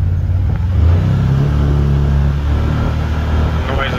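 A 2021 Can-Am Commander with a driveshaft vibration fault runs in low four-wheel drive, its engine droning loud and steady with a rising rev from inside the vehicle, while a person talks over it.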